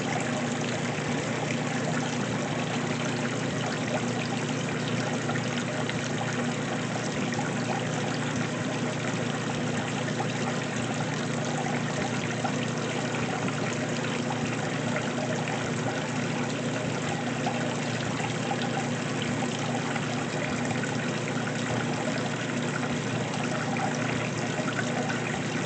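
Continuous sloshing and churning of water in a 2024 GE top-loading washer agitating on a normal cycle, steady and close, with no pauses or voices over its whole length.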